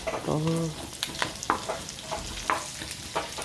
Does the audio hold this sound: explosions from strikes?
no